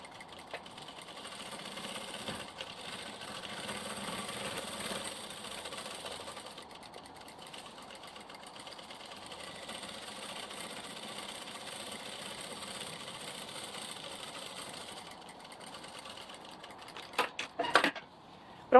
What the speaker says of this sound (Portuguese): coloco ela aqui e costuro